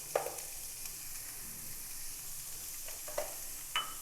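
Ground chicken mince frying in a pan, a steady soft sizzle with a few light spatula scrapes and taps over about four seconds, fairly quiet and close.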